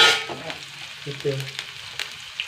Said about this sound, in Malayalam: നന്നായി ഒന്ന് മൂക്കട്ടെ